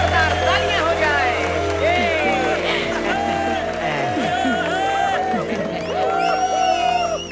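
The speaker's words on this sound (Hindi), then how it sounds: "जोरदार तालियां हो जाए।" An audience at a celebrity event claps and cheers loudly, with whoops and shouts rising over a continuous wash of clapping while people talk and call out over it, joined by sustained musical tones.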